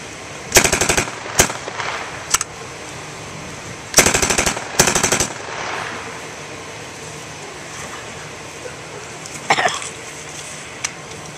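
A WWII German 9mm submachine gun with a 32-round magazine fires several loud short bursts at an outdoor demonstration, with quiet gaps between them and one last brief burst near the end.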